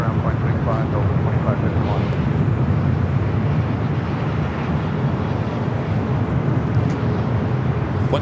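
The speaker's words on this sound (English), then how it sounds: "767 going to be taking off from the south side bend." A UPS Boeing 767 takes off at LAX, a steady, fairly loud jet rumble and roar that persists throughout, with faint chirps on top and no clear talk.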